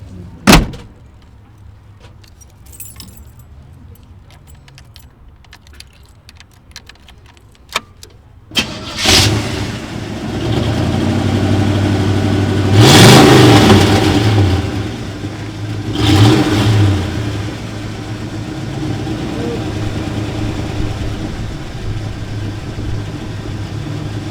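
A 1938 Ford farm truck engine with a deliberately loud exhaust, first quiet with faint clicks, then the engine catches and idles rumbling loudly, with two strong revs rising and falling before settling back to a steady idle.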